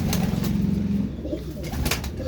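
An aged, unbanded old stock pigeon coos up close, a low, throaty pulsing call for about a second, followed by rustling and soft flapping sounds.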